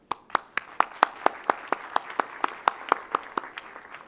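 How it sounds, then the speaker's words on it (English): Applause for the speakers at a conference session, heard as a single nearby person clapping in an even, brisk rhythm of about fifteen distinct claps, with faint room sound behind. "I would say a hand of applause for them"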